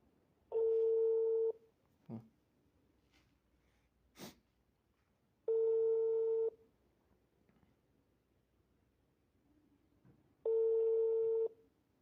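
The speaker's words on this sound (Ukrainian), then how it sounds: "Давай, хоть ты візьми уже трубку." Phone ringback tone heard while calling a seller of a walk-behind tractor, three steady one-second tones about five seconds apart, clear and close, with small clicks and a sniff in the gaps and no talk.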